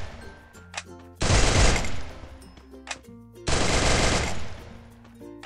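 Two sustained bursts of rapid automatic fire from the Cobra gun in Free Fire, loud and close, separated by quieter game sounds and brief tonal effects, with no talk.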